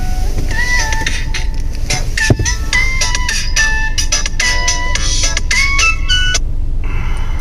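A phone ringtone plays a bright, repeating melody of short tones for an incoming call, loud and close over a low road rumble inside a taxi.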